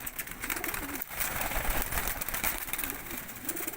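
Pigeons, kept by a fancier, coo in a few soft rolling phrases over a busy, noisy background with faint talk.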